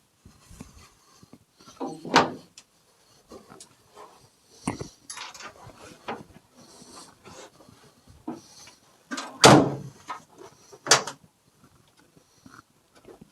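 A door panel is fitted into place: scattered knocks, thumps and sliding scrapes at irregular intervals, with two or three sharper bangs standing out in a quiet room, and no talk.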